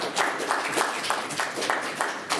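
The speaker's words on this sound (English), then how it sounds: "Give yourself a round of applause for being here," A room full of people at a local candidate forum clapping: steady, moderately loud applause throughout, with rhythmic clapping pulses and no voices.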